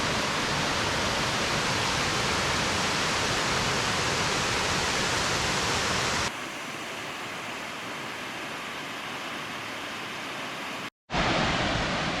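Crystal Falls waterfall in Idaho roars as a steady, loud broadband rush of falling water, unbroken throughout with no voices, dropping briefly to silence near the end before resuming.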